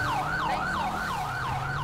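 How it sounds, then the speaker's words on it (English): Close, loud police siren from a patrol car in GTA 5 wails in a steady rising-and-falling cycle about every half second, with an engine hum beneath it. "At least move if you're gonna keep the siren on like that."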